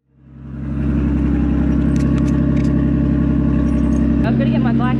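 A small Daihatsu Mira Turbo L200S kei car engine cranks and catches, settling into a steady idle with a strong low hum; a brief blip near the end, with short faint sounds above it.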